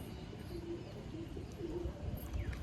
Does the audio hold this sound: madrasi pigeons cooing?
yes